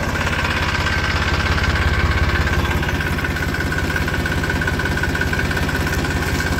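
A tractor engine chugs steadily at low speed while pulling a trolley, a loud, close, continuous diesel drone with a rhythmic throb and no talking.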